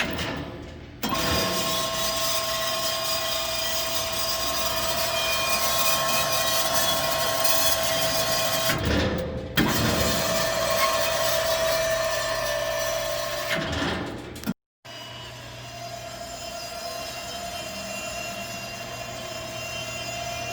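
A used MTC high lift column dumper, 800 lb capacity, lowers on its motor, giving a steady mechanical drone with a few brief pauses and a short cutoff near the end, close and without talk.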